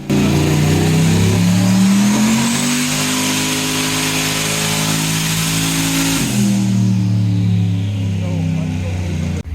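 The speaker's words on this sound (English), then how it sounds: "they actually took a Fox Body Mustang and swapped an LS engine in it" An LS V8 engine swapped into a Fox Body Mustang revs loudly and continuously, pitch climbing and holding, then dropping back to a rumbling idle before rising again.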